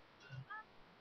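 A cat in The Sims 3 gives a short, faint meow, a brief rising-falling cry in near silence.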